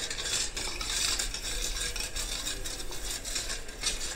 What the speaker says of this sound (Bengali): আমি একটা বাটিতে জল নিয়েছি, 1 চামচ নুন, 1 চামচ চিনি, এটা দিয়ে ভালো করে মেশাবো।